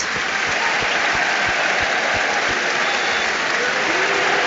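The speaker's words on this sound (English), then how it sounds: "Applause for Adam Johnson around the city ground." Stadium crowd at the City Ground, Nottingham, applauding for Adam Johnson during a Premier League match between Nottingham Forest and Aston Villa; a dense, steady wash of clapping from thousands of fans, continuous and full throughout.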